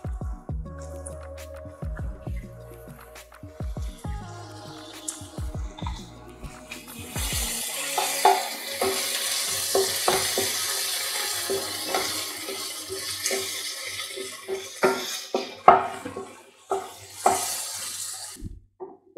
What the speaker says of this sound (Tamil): இப்போ தக்காளி வந்து நல்லா வதங்கிடுச்சு.